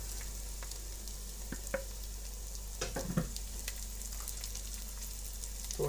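Green chilies going into onions fried to light brown for a chicken kadai, giving a faint, steady sizzle with a few soft stirring clicks and taps, no voices.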